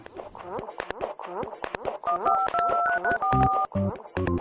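A series of telephone keypad tones beeps in quick succession, mixed with clicks and speech-like sounds, ending with a few longer dial tones.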